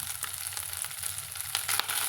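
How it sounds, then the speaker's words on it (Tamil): Black nightshade berries fry in hot oil in a pan, a steady close sizzle with soft crackles and brief stirring scrapes throughout, and no one speaking. "எண்ணெயிலேயே நம்ம மணத்தக்காளி காயெல்லாம் எப்படி வறுத்து விடுமோ அது போலயே வறுத்து விட்டுக்கலாங்க"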